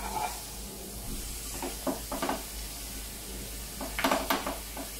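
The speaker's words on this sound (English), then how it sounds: "cooking ground beef when it's kind of frozen is that you get like smaller little shreds" Frozen ground beef fries in a pan with a low continuous sizzle, broken by several sharp scraping and stirring clatters of a utensil against the pan, the clearest near the end.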